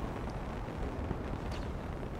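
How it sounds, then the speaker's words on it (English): Gunfire in the Halo Infinite campaign, a dense, continuous rumble of shots and blasts rolling steadily without a break, fairly loud and close. "Somebody's shooting at me."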